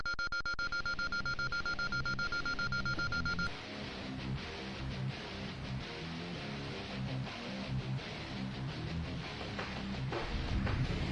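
A Roblox game alarm sounds as a rapid, steady electronic beeping for about three seconds, then stops, giving way to busy game noise and music.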